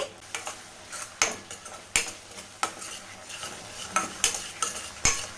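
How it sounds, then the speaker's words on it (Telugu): Coriander powder, turmeric and salt masala for a fish curry are mixed in a pan, with a spoon clacking and scraping against the metal in irregular sharp knocks over a faint sizzle, close and without speech. "ఇప్పుడు ఈ మసాలాను మొత్తం బాగా మిక్స్ అయ్యేటట్లయితే కలిపేసుకోవాలి"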